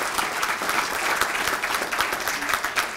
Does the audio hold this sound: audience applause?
yes